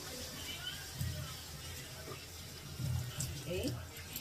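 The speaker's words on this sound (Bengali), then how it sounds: "যেহেতু 2 বাটি ডালিয়া, সেহেতু তার ডবল জল দেবো 4 বাটি।" Water poured into a pot of broken wheat (dalia) in a home kitchen, a continuous splashing flow with a low background hum.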